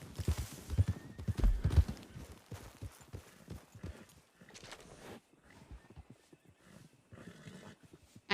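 Horses clip-clop along in a Red Dead roleplay game, with a dense burst of hoofbeats at first that thins to scattered, lighter steps, plus a brief neigh-like sound.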